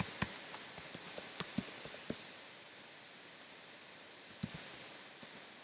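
A computer mouse clicking in a quick burst of sharp, faint clicks, followed by a pause and then a couple of isolated clicks in a quiet room.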